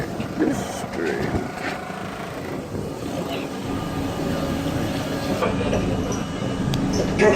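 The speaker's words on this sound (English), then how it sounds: "So that's the train right there that we just got off of." An R32 A subway train on the JFK/Rockaway line runs close by with a loud, steady rumble and rattle, and brief voices sound over it.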